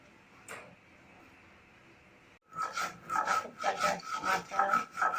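Prawn heads and rice being ground by hand on a stone: after a quiet stretch with a faint hum, rhythmic scraping strokes start up close and repeat steadily with no talk.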